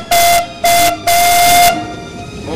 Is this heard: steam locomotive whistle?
yes